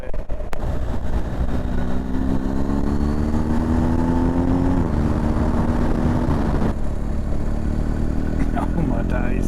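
A motorcycle riding on an open road, its engine droning loudly and continuously up close with wind rush, the pitch shifting as it accelerates and eases off.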